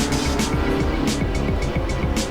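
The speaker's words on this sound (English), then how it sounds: "The car's reaching in excess of 280 kilometers an hour." A GT3 race car engine screams at high speed on the Nordschleife in Assetto Corsa, a loud, steady roar with gear-change pulses across the sim endurance race.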